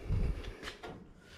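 An early Ford Bronco door swings shut, a close, muffled thump followed by a couple of lighter knocks and rattles as it settles, with no talk.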